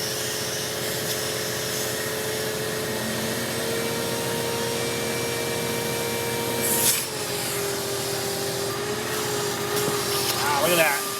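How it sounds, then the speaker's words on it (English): A shop vacuum drones steadily while sucking a thick horsehair nest out of a VW Type 4 2.0 engine from a Porsche 914, with rubbing and scraping noises and brief louder rustles as debris is pulled through. "then we'll suck with the vacuum and we'll blow with the air hose and blow it all out"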